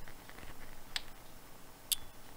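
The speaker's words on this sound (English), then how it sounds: "That's the alarm relay kicking in." Two brief, crisp ticks come from the alarm relay of a Tycon TP-SW8GAT switch as it activates, close-miked and spaced about a second apart over quiet low hiss.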